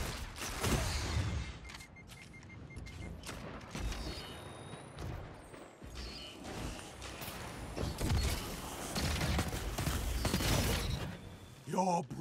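Jack Queen King 3 gunfire in the video game Destiny 2, with sharp shots and mechanical clatter ringing out at intervals over a busy game soundscape and some talk.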